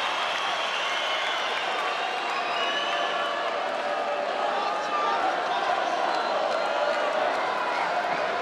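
Boxing arena crowd at a Carl Frampton fight roars and cheers in a sustained, even wash of noise throughout, with a commentator talking over it.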